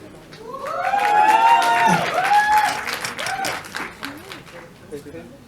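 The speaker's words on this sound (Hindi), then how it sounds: "एक बार जोरदार तालियां पारुल के लिए हमारे" An audience claps loudly for Parul at a live music event, with steady clapping running underneath a prominent voice speaking and calling out through most of the clip.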